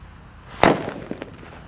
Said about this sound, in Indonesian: Lanjut di sini ada mercon petir, bosku. Kita nyalakan guys ya.